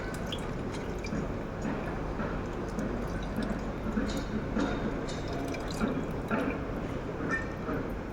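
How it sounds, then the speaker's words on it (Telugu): Water is poured into a cooking pot of tamarind-based chamagada (taro) stew, giving a close, continuous splashing and dripping of liquid. "వాటర్ పోసి పెట్టుకుంటాను."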